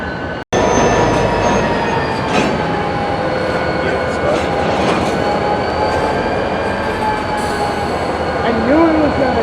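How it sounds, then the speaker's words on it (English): Locomotive moving in the Denver North rail yard to couple onto a boxcar: a sharp bang opens a continuous loud rumble of wheels and engine, with squealing wheels and tonal whines, while someone talks over it. "He's gonna hook up to that boxcar by the looks of it."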